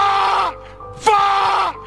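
A man yells in frustration on a forest hillside in the horror film The Ritual, giving two loud, strained, groaning shouts in close succession, each fading away with a brief lull between them.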